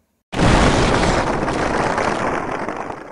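A sudden loud explosion bursts in after a brief silence, then a dense roaring rumble slowly fades but stays strong to the end.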